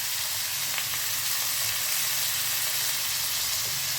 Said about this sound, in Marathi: कांदा आपण शॅडो फ्राय करून घेऊयात। त्यात आपण ह्या 2 मिरच्या टाकूया,